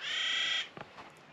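Birds from a flock calling on a mountain trail in New Mexico's Sandia Mountains: a sustained, loud, harsh caw-like call, then a few brief fainter calls after it.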